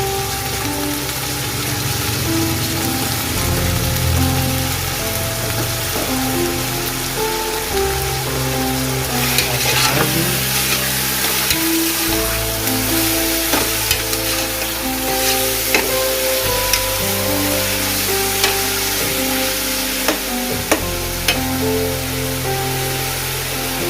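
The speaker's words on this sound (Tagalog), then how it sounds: "Add na po natin ang chicken." Chicken sizzles and fries in a pot for Filipino chicken macaroni soup (sopas), a steady loud crackling hiss with occasional stirring clinks, close up and without talk.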